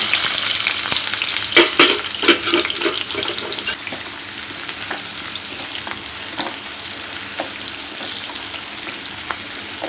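A large chopped onion hits hot oil with a burst of loud crackling and spitting, then settles into a softer, steady frying hiss, with no one talking.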